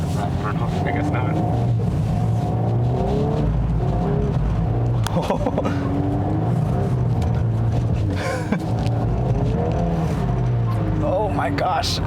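A 2022 Volkswagen Golf R accelerates while drifting, its steady engine rumble and drone running throughout, close and loud, with people talking over it.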